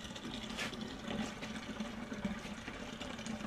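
Homebrewed beer wort pours and splashes into a fermenter, a faint continuous gurgling, bubbling stream of liquid as it aerates, with no talking.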